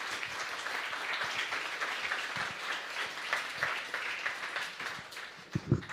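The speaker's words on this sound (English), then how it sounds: "I would like you to give a very big applause for her" Audience applause for a product designer taking the stage at a talk on testing strategies, a steady dense patter of many hands clapping at moderate level throughout, with no speech over it.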